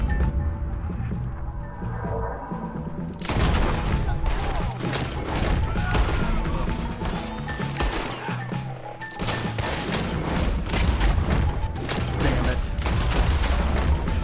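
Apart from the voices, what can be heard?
gunfire in the video game Red Dead Redemption 2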